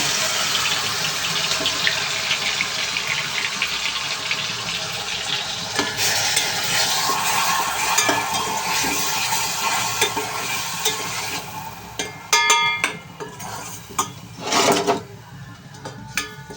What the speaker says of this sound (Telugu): ఆయిల్ అయితే వేడైంది కదా దీంట్లో ఉల్లిపాయ పేస్ట్ అయితే వేలేస్తున్నాను